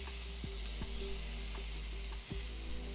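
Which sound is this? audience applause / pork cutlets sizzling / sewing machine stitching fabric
pork cutlets sizzling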